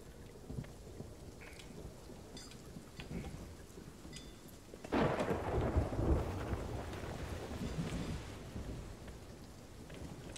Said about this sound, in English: the storm has mostly passed over, but it's still bloody raining because it takes ages for the rain to stop.